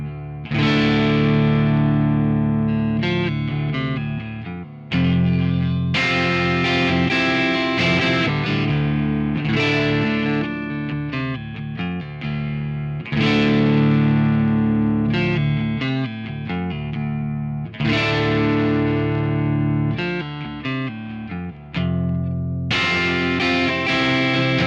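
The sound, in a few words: Fender Ultra Luxe Vintage 60s Telecaster electric guitar playing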